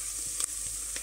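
Onions frying in a pan, a loud, continuous close-up sizzle with a few light clicks of stirring, no voices.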